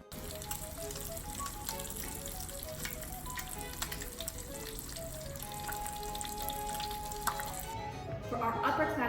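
Fish fillets fry in hog's fat in a hot pan over an open fire, giving a steady close crackling sizzle that runs throughout and swells louder at the end.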